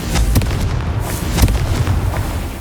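Confringo fire spell explosion in the video game Hogwarts Legacy, a loud rumbling burst with several sharp cracking impacts over about three seconds, dense low booming throughout, no speech.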